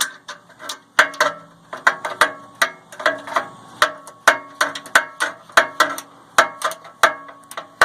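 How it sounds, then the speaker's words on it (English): A ratchet clicks in repeated short bursts of rapid metallic ticks while loosening a bolt on a Jeep JKU's steering, close and crisp, with no talking. "We'll put the ratchet in."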